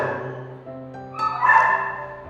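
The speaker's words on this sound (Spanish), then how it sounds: "Mi perro está aquí a mi lado ladrando" A dog barks right beside the listener, a drawn-out, whining bow-wow with a higher yip near the end, close and fairly loud.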